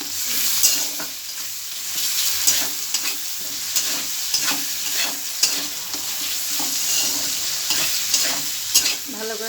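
A paste of ginger, garlic and green chili sizzles loudly in a pan while it is stirred constantly, with rhythmic scraping and clatter over the continuous frying hiss.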